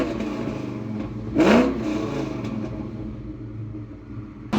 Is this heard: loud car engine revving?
yes